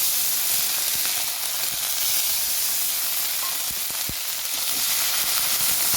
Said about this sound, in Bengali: তো আমি এবারে তেলের মধ্যে পাঁচ ফোড়ন দিয়ে দিলাম, এবারে দিয়ে দিলাম আদা রসুন পেঁয়াজের পেস্ট